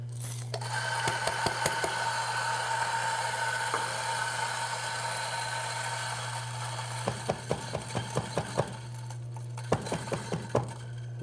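A Chiato E37 SD single dose coffee grinder runs steadily with a continuous motor hum and gritty crunch from the beans, broken by a series of sharp ticks and knocks near the end.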